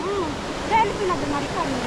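Water runs steadily along a small hill stream, where stones have been set to channel the flow, giving a close, continuous rushing wash with faint gurgles throughout.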